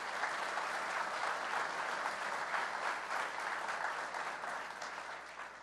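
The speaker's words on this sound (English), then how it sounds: "Let's give them a round of applause." Sustained audience applause at a Buffalo State ceremony honoring first responders, dense even clapping from a large crowd that slowly tapers toward the end.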